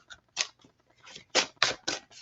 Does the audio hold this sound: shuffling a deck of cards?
yes